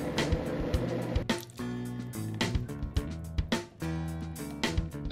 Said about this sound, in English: And we're just gonna blend it up so it's nice and smooth.